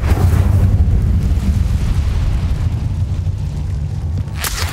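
A fiery Incendio spell blast in Hogwarts Legacy on PS5, a loud sustained booming roar with heavy low rumble throughout, ending in a brief bright burst at the close.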